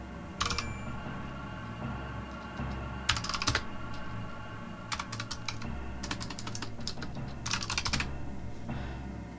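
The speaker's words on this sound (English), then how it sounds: "That definitely is not the sound of my keyboard clicking and clacking" Computer keyboard typing in quick bursts of clicking and clacking keystrokes separated by short pauses, close and clear over a steady background hum.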